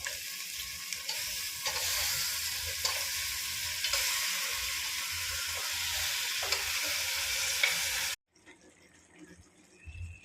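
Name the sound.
goat head meat frying with ginger garlic paste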